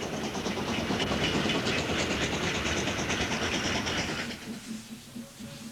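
A steam train on the Somerset and Dorset railway runs downhill south of Masbury through the Mendip countryside: a steady, loud rolling rumble with rhythmic wheel clatter that eases and thins out over the last second or so.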